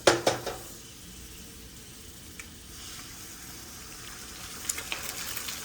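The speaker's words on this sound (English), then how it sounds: "And get a little bit more butter in the pan for my eggs." Eggs frying in brown butter in a pan over a gas burner, a steady soft sizzle with a few sharp clinks and scrapes at the start and near the end.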